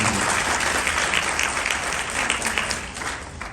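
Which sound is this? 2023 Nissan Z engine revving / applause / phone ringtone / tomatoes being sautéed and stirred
applause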